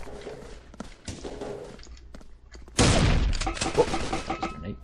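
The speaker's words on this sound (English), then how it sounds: "Oh, that was a grenade. Ooh, that was close." A grenade goes off in the blocky shooter game Blockstorm, a sudden loud, close blast with a long rumbling tail, following scattered gunfire and footsteps.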